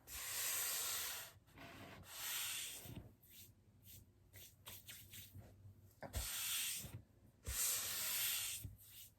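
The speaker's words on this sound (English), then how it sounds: "we need to have a little wiping intermission because this is disgusting" A cloth wipes dirty bowls close to the mic in repeated rubbing strokes. Long, loud swishing passes alternate with quieter scuffs and light taps.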